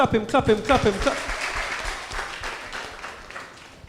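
Audience clapping at a community meeting with a local councillor, a spell of applause over a voice at the start, then settling into a softer, diminishing patter of claps in a hall.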